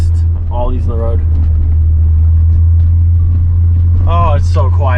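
A Volkswagen Golf Mk5 rolls over a series of road bumps, heard as a constant loud low cabin rumble with occasional soft thuds, while people talk inside the car.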